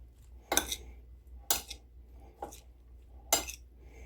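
Salsa with voodoo seasoning, mango, cucumber, onion and cilantro is stirred in a bowl, with four sharp utensil clinks and scrapes against the dish at irregular intervals in a quiet room.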